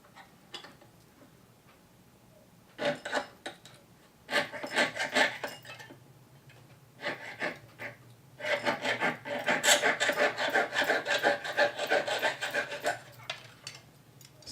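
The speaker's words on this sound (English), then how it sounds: "So I'm just sawing around the perimeter of the letter." Hand saw rasping through a wooden letter cut-out, close and loud, in bursts of steady back-and-forth strokes with brief pauses between them, no talking.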